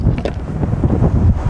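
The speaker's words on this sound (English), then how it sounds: "We got a windy day." Strong wind buffets the microphone on an outdoor pickleball court, a dense continuous low rumble with gusting swells and no other distinct sounds.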